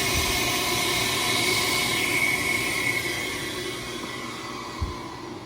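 Vacuum being released on a Harvest Right freeze dryer after a freeze-dried Skittles batch, a steady loud hiss and rushing air with a humming drone that slowly fades, no talking.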